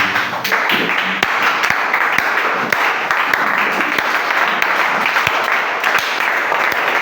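A church congregation at a French-language worship service applauds, a loud, dense and continuous wash of many hands clapping close by, with sharper individual claps standing out throughout.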